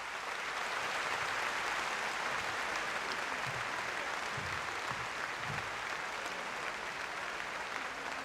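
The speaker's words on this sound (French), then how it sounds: "nous vous prions de bien vouloir l'applaudir" An audience applauding in memory of Marie-Louise Asseux, a sustained wash of steady clapping lasting several seconds, fairly distant, with a few low murmurs underneath.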